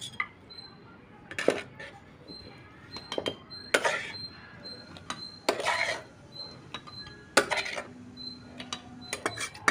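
Tomatoes, onions and peanuts being pounded and ground in a stone mortar, heavy uneven thuds and scraping grinds up close, with brief clinks between strokes and no talking.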